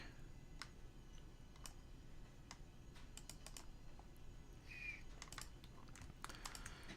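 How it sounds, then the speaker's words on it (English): Computer keyboard and mouse clicks while working in audio plugin code software, a steady scatter of light taps and ticks at close range, some in quick bursts, over a low background hum with no talking. "At least the clicking on this stuff is going well."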